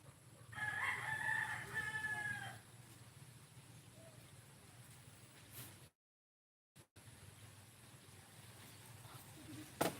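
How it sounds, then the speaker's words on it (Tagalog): A rooster crows loudly once near the start over a steady low rumble of background noise, followed by a brief dropout. "Maraming manok dito, idol."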